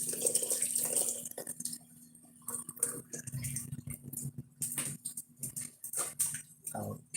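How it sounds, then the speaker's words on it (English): Hot water poured into the head of an American Girl doll during a repaint and repair restoration, heard as intermittent splashing and trickling with small clicks and taps, close by, with a person speaking in between. "That's hot enough to pour in Courtney's head"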